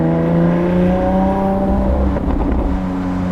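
Lamborghini Aventador SVJ V12 engine revving loudly nearby, its steady growl rising into a stronger, throatier surge of revs in the final second, with no voices.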